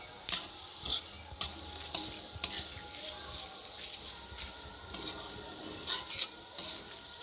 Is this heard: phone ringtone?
no